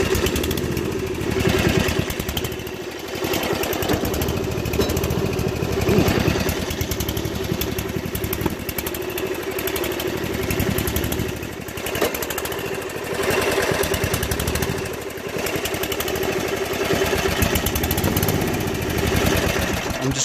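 A riding lawn mower engine runs steadily at high throttle: a loud, continuous small-engine roar with a slight waver. The mower smokes and stalls, with gas filling the crankcase.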